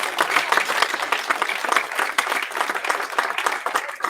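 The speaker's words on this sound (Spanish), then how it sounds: "¿Cuánto le dan ese fuerte aplauso al Señor?" A church congregation breaks into strong, sustained applause during a Spanish-language sermon, dense clapping from many hands filling the room steadily for several seconds without pause.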